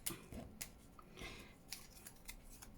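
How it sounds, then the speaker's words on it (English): Scissors snipping paper while making junk journal embellishments, several quick close crisp cuts in an irregular rhythm, quiet and alone without talking. "So I can see all the bits where I've not caught it with my scissors."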